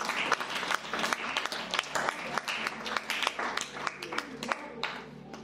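A church congregation bursts into sustained applause during a French-language service, dense overlapping hand claps mixed with raised voices and cheering, continuing steadily throughout.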